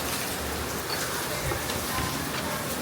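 Heavy monsoon rain falling at a home, a continuous dense hiss of drops drumming on surfaces, steady and loud throughout, with no voices over it.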